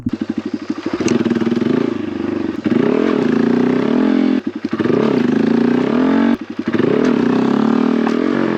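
A Honda Grom motorcycle engine revs hard during wheelie practice, with repeated loud close bursts of revving separated by short throttle drops.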